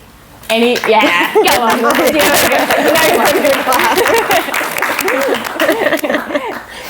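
An audience at a panel discussion claps in a burst of sharp, scattered applause, with a voice talking and laughing over it close by.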